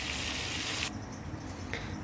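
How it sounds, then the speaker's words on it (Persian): Water pours from a glass into a pot of chicken and eggplant stew, a steady close gush that cuts off partway and then a brief trickle. "یه لیوان پرم آب ریختم"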